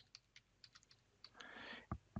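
Clicks of typing on a computer keyboard while entering a GRUB bootloader install command during an Arch Linux setup, a quick run of soft, fairly quiet keystrokes ending in a few louder, heavier presses, with no talking.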